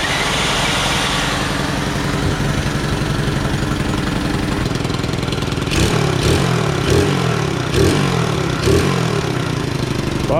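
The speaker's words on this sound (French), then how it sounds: "On est paré pour faire un petit test de démarrage. Poignée d'accélérateur à l'ancienne. Feu!" A 125 YCF motorcycle engine fitted to a homemade drift kart, with an exhaust gasket missing, fires up and settles into a steady, close, loud idle, then gives a few sharp throttle blips near the end. No one speaks.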